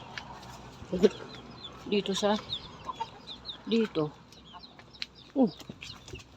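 Hens cluck in short bursts scattered through the scene, with a faint ambient background; a person speaks briefly between the calls.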